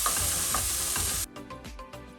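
Vegetables cooking in a pan over medium-low heat, a steady close sizzle with scraping stirs that cuts out abruptly partway, leaving only a few faint clinks and scrapes.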